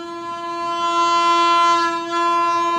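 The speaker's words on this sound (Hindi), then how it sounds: "तो VA माइनस VB, ट्रेन आ रही है।" A passing train sounds its horn in one long, steady, loud blast that holds through the whole stretch, swelling slightly in the middle, with a faint rumble of the rail traffic underneath and no talking.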